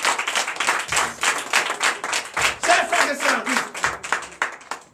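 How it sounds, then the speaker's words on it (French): A church congregation at a Sunday service in Comè, Benin, claps and applauds in dense, steady bursts, with voices calling out in the crowd. "Donnez l'acclamation à Seigneur Jésus."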